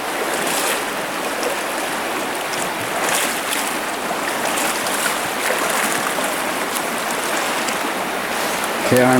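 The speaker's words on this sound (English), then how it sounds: "Nice fast water coming down in, creating a bit of a deep spot below it." Fast water rushing down a trout stream into a deep pool, a loud, steady broadband wash of flowing water close by, continuous throughout with no talking.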